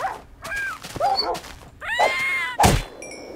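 A dog in the Minecraft mod The Crafting Dead yelps, barks and whimpers in several short bursts while fighting attackers, mixed with thuds and game sounds over about three seconds.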